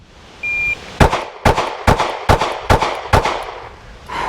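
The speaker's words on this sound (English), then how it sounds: "Man, that is a tough little gun to shoot." Shots from a small handgun at a timed shooting drill: six sharp, loud reports spaced about half a second apart, preceded by a short electronic timer beep, with no talking.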